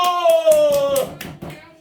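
A church congregation claps briefly during a Sunday worship service, a scattered burst of hand claps under and after a sustained speaking voice, fading toward the end.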